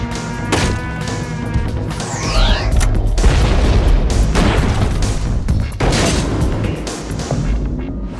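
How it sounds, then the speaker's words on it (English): A musket firing a lead ball, a heavy booming report followed by crashing impact noise and rumbling debris, loud and close, amid other thuds and a fading tail. "Now the musket fires the same sized lead ball at a higher speed."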